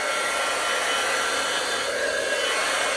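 A hair dryer blows steadily and loudly on a damp paper flower box craft, a continuous broadband whoosh with a faint motor whine, close by and unbroken, with no talking.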